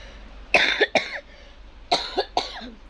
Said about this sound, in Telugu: కొంచెం కాఫ్ ఎక్కువగా ఉంది